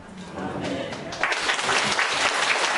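A church congregation applauding in a large room during a Korean Sunday worship service, the clapping swelling louder partway through, with a voice speaking over it.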